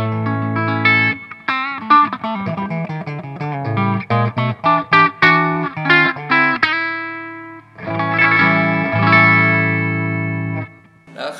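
Electric guitar with a thin, nasal out-of-phase tone from Tom Holmes 455/450 humbuckers in series plays a run of short plucked notes, then longer sustained chords, moderately loud and close.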